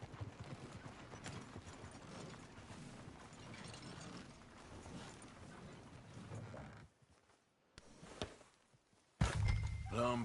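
Horse hooves clip-clopping in the Red Dead Redemption video game, a steady rhythmic trot of faint hoofbeats that drops out briefly before a louder burst at the end.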